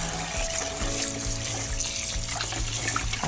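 Rice being washed under a running kitchen tap, a steady close rush of water splashing into a sink and pot without pause.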